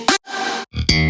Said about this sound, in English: a very important thing to introduce the slap bass